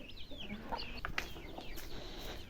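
Chickens cluck softly and chatter close by as grain meal is scattered for them in a rural yard, a busy overlapping flock sound with a few sharper squawks.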